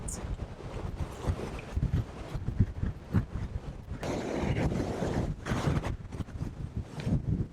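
Strong storm wind gusts roar and buffet outdoors, rising and falling in loud surges with heavy buffeting on the microphone.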